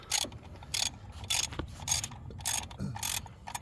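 A ratchet socket wrench working on 10 mm bolts of a 2004 Honda during spark plug and coil pack replacement, clicking in quick bursts of ratcheting strokes, about seven evenly spaced bursts, close and clear.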